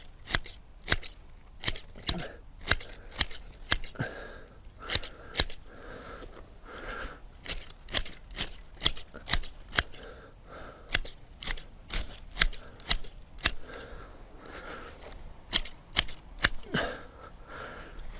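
Hand shears snip back the tops of green manure plants in a garden bed, a quick series of sharp, close cutting clicks in an irregular rhythm with brief rustling between.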